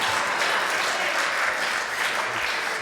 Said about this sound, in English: Let's have a hand for Adam.